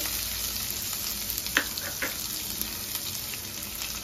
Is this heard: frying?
yes